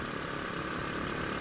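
A Honda Revo motorcycle fitted with an aftermarket exhaust idles with a steady, rough, broadband rumble throughout, close and fairly loud, with no talking.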